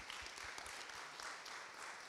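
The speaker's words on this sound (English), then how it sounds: "Give her a round of applause." A conference audience gives a round of applause for a reverend, a steady, fairly faint wash of clapping lasting the whole moment without any voices.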